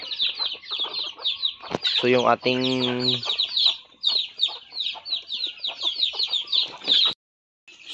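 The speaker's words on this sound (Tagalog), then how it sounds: "So this is our native chicken backyard" Native chickens in a backyard cluck and chatter continuously nearby, with a drawn-out squawking call in the middle and someone speaking briefly over the flock.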